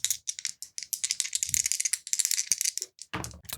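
Dice rattle and tumble for a sanity roll in a Delta Green tabletop game: a dense, continuous clatter of small hard pieces shaken for about three seconds, ending in a louder, fuller tumble as they land.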